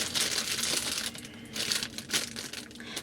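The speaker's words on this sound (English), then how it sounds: "opened up the box so that you didn't have to listen to all this crinkling" Jewelry box packaging crinkles and crushes in close, irregular bursts of rustling with short pauses between handlings.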